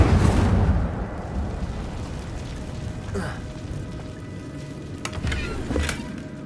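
An Incendio fire spell is cast in Hogwarts Legacy, opening with a loud, whooshing fiery burst that dies into a crackling rumble, followed by a few faint sharp snaps and pops.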